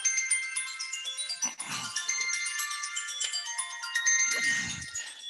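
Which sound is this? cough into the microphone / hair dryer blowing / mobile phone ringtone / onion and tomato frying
mobile phone ringtone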